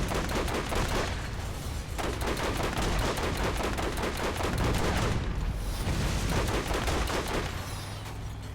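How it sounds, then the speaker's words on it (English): Auto-locking missiles fire in rapid succession in Borderlands, a dense loud barrage of booming, gunfire-like blasts that runs unbroken for the whole stretch. No speech is heard. "Those missiles are fun as hell, though. The fact that they auto-lock."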